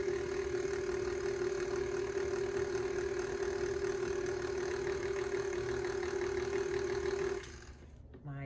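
A stand mixer churns peanut butter cookie dough with a steady, close mechanical whir and hum that cuts out abruptly near the end.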